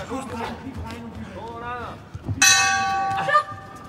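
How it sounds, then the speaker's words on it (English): At an AIBA U19 world championship boxing match in Poland, the round-end bell rings out with a bright metallic clang and a short ringing tail. A commentator talks just before it. "Well, there goes the bell,"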